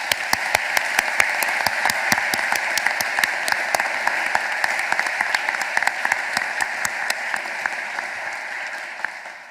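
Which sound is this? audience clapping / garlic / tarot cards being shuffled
audience clapping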